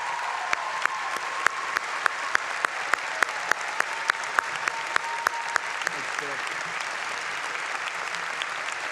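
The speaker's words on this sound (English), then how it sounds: "let's give him another big round of applause." An audience applauds at a university commencement ceremony, a sustained wash of many hands clapping, with a few sharper individual claps standing out on a regular beat throughout.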